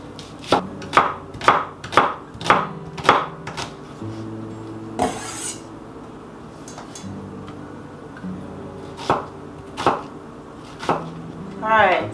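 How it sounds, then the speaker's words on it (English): A knife slices through an onion on a board, making a rapid run of crisp, close cuts, then a pause with some handling noise and a few more scattered slices. "now I'm going to slice the onion"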